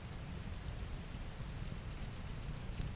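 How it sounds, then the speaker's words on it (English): Steady rain falling on a surface, a dense, even hiss of drops with no breaks, fairly quiet and unaccompanied by any voice. "I need some solid rain. Rain noises."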